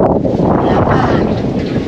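Strong wind roars steadily across the microphone outdoors near a boat, a loud continuous rumbling buffet with no breaks.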